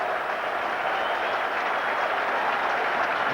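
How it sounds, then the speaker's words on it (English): A crowd at an England versus West Indies Test match at Edgbaston applauds, giving a dense, even wash of distant clapping that holds steady throughout. "Applause from Pringle and from everyone around the ground."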